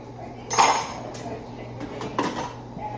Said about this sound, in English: Let me hurry up and wash these so I can clear this sink up.